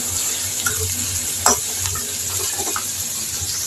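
Small bitter gourd sautéing in plenty of oil gives a steady close sizzle, with a brief spoon or pan clink partway through and light stirring scrapes.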